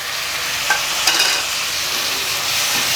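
Chopped tomatoes frying with ginger garlic paste while being stirred in a pan for a potato masala, giving a steady soft sizzle with a couple of brief scraping stir sounds, close and alone.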